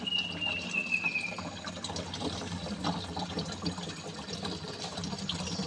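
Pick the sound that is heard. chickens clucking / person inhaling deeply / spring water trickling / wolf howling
spring water trickling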